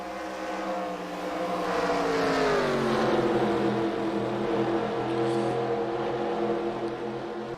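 Race cars in an eNASCAR Heat video game roar down the backstretch, a continuous layered engine drone with shifting pitch as several cars run close together.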